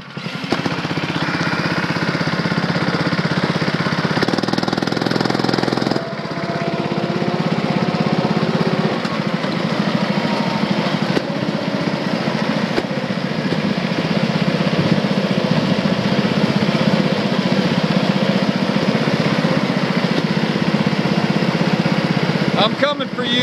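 Car engines roar continuously in a video game street race for pink slips against a Corvette, a loud sustained buzzing drone with shifting revs that fills the whole stretch, and a voice talks at times over it.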